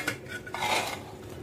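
A ladle scrapes and clinks against the metal of a pressure cooker while stirring cooked moth beans and rice, a brief close scraping sound with no talk.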